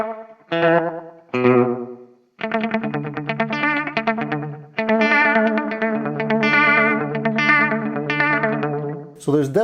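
Electric guitar through an Xvive Echoman Mini analog delay pedal with repeats and time set low, short chords and phrases carrying a slight wavering shimmer and brief echo tails, played alone with no talking.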